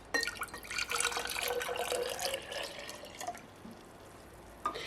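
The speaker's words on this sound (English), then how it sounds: "The first thing we're going to do is add a cup of water to our jar." Water pours steadily into a jar, a continuous splashing trickle at close range that tapers off, with a few faint drips near the end.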